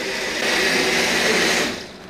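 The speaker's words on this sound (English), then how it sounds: "This industrial cuisine art blender can puree a brick." Industrial Cuisinart blender pureeing hot wing ingredients, a loud, close, high-pitched motor whir running steadily for over a second before winding down at the end, with no voices.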